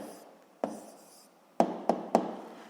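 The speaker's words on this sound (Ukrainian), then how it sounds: "Пишемо відповідь." A pen writes an answer on paper in a quiet room. Soft scratching is broken by a few short, faint taps of the pen against the page.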